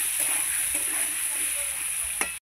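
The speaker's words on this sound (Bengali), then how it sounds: "একটু লবণ দেব, লবণ, একটু হলুদ, নেড়ে চেড়ে ভালো করে এবার আমি লাল লাল করে ভেজে নেব।" Potatoes frying in a pan with salt and turmeric give a steady, close hiss of sizzling oil, broken once by a light utensil clink before the sound cuts off abruptly; no speech.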